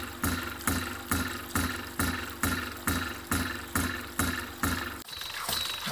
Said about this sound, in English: Now here's our ram pump just hammering away.